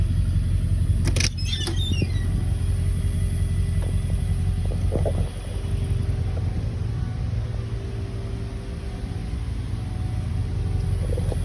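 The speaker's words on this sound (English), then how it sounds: "Looking like it is an F450. Definitely doesn't accelerate like I was kind of thinking it might." A Ford F450 converted ambulance drives on a test drive, its engine giving a steady low rumble and road noise from inside the cab, with a few brief rattles and clicks, no speech.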